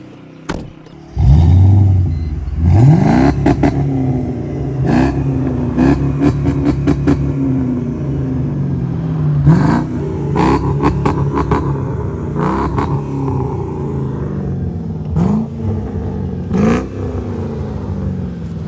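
Mercedes-Benz W210 E-Class engine turned over by the starter, catching and then revved repeatedly, each rise and fall in pitch loud and close, idling in between with small clicks and knocks, no voices.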